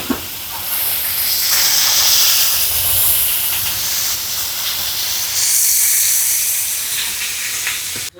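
Coconut oil poured over crab frying in a pan, setting off a loud, continuous hissing sizzle that swells and holds for several seconds, then cuts off abruptly.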